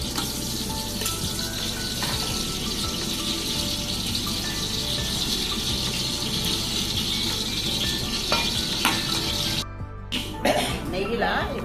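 Semolina roasting in ghee while it is stirred in a pan: a steady, close frying crackle with scraping, a few soft coughs or throat sounds, and a brief dip near the end.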